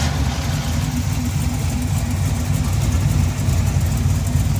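A Ford Mustang engine starts and settles into a steady idle, with a deep, continuous low rumble that stays loud and even throughout, with no voices over it.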